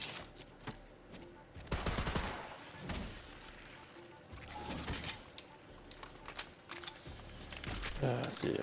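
Gunfire from the video game Borderlands 3, played as Moze, comes in short rapid bursts and single shots scattered through the stretch, mixed with someone talking over the game.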